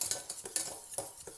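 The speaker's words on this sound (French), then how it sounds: "il faut bien délayer la préparation de crème pâtissière avec le lait" A whisk stirs pastry cream mixture with milk in a saucepan, a series of quick, close clinking and scraping strokes at an uneven rhythm, with no talking.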